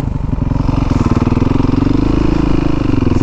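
A RAW 450 dirt bike engine runs close and loud, a steady rapid thumping drone with slight swells in revs and no talk over it.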